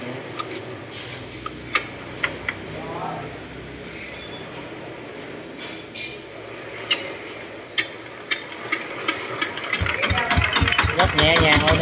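A Zanma SS 70 engine idles close by in a workshop, with a steady low chug and irregular ticking clicks, rising to a louder rattling run near the end while people talk over it.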